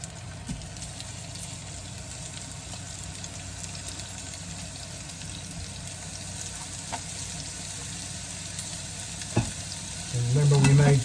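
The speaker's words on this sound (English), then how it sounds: "Gotta love that sizzle." Bratwurst burger patties sizzle steadily on a hot griddle at over 300 degrees, a close, continuous frying hiss with a brief louder burst near the end.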